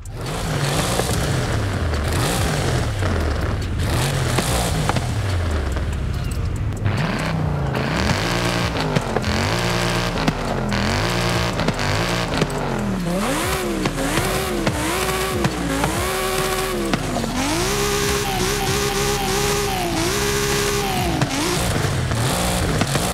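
A game car engine, a standard-engine Audi RS6 (2021), revs repeatedly, rising and falling in pitch, loud and continuous with no voices.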